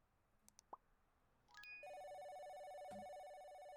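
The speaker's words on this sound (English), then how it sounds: "Phone's ringing." Electronic telephone ringtone in the office video game Office Simulator, a steady repeating trill that starts after a few soft clicks and keeps ringing loud and close with no talk.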